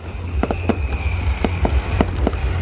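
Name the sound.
new year fireworks exploding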